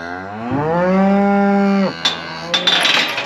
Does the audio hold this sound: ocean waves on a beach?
no